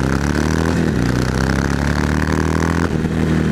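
A big Harley-Davidson motorcycle engine rumbles loudly at close range, its deep throb lifting and settling with short revs.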